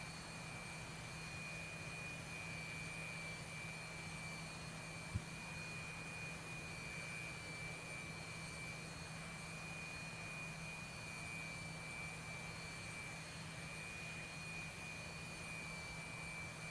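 A jet aircraft engine, heard in a video game, roars as the plane lands on a runway after a Cobra manoeuvre, without a drogue chute; a steady, even broadband drone with a constant tone runs throughout, with one brief click partway through.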